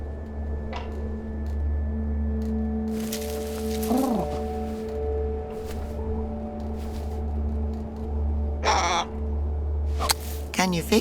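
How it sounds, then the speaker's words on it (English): Harsh caws of a crow in the video game The Inner World, a few rasping calls rising over a steady low hum and soft game music, with a voice speaking in between. "Stupid bird."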